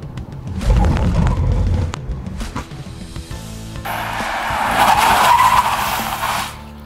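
A Porsche fitted with PC12 brakes stops hard from 70 km/h in a braking test, with a rumbling approach followed by a loud, sustained tire skid lasting a few seconds before fading.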